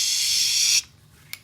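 Elmer's spray adhesive hisses from an aerosol can in one steady, close burst of under a second before cutting off, with a faint click afterward.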